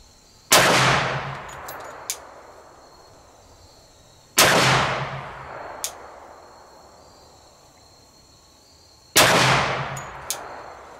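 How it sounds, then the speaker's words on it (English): Rifle firing three well-spaced shots at a range, each a sharp loud crack with a long ringing decay, followed moments later by a faint distant clang from the target. "Okay, I'm gonna fire 3 rounds this time."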